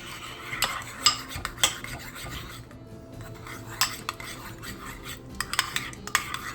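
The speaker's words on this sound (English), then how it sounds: "And I'm going to stir everything together." Ribs are stirred together with Korean barbecue sauce in a bowl, with clinking and scraping utensil taps and soft rubbing strokes, close by, irregular, and without voices.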